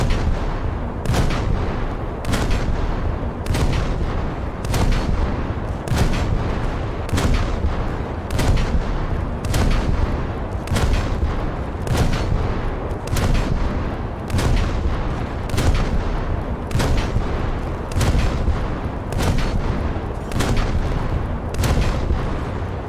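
Naval artillery from a warship in a video game, heavy booming salvos fired at a steady rhythm of roughly one shot per second, loud and continuous over a rumbling background with no talk.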